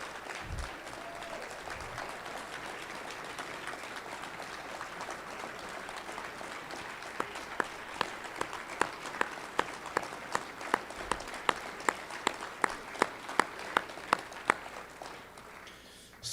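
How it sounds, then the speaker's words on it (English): Quiet, diffuse audience applause at a Rotary Club of Tucson centennial gathering, a soft continuous patter of many hands with a few sharper, closer claps picking up in a regular rhythm partway through before tapering off at the end. "Rick Rose, man, big round of applause"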